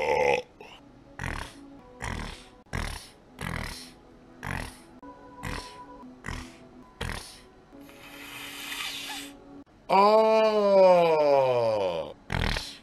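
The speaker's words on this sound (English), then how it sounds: "A nice giant belch for you." A person belches over and over in a steady run of short, loud burps, then lets out one long, drawn-out belch that rises and falls in pitch near the end.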